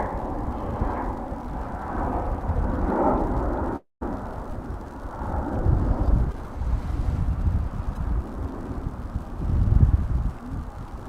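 Cold wind buffets the microphone outdoors on a sunny winter day at a DFW Airport plane-spotting spot, a steady low rumble with gusts swelling louder toward the end and a brief dropout near four seconds.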